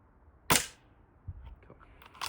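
A rifle shot fired while zeroing a scope, a single sharp crack near the start that decays quickly, followed by faint clicks and small handling noises.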